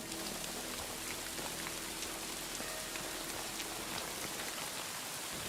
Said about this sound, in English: rainy weather is very chill